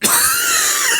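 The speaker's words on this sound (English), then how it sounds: "that was a cough. It was a bad one." A single harsh, rough cough bursts out close and loud, then rasps on for about a second with no talk over it.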